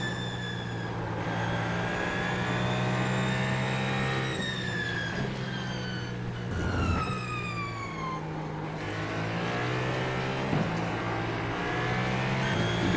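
Hypercar race cars in a racing video game at Road Atlanta, high engine whines rising and falling through gear changes as cars overtake, with several overlapping engine tones sweeping in pitch across the run.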